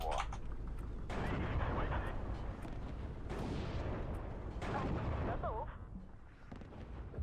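Artillery firing in the WW2 real-time strategy game Steel Division 2: a dense, continuous rumble of booming shots and blasts rolls through the whole stretch, with a voice talking over it.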